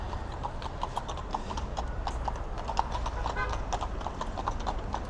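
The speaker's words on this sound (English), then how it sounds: "We'll hang out here so you guys can see some horses." Hooves of NYPD mounted unit horses clip-clopping on a Brooklyn street, a quick irregular patter of hoof strikes close by over street background, with faint voices nearby.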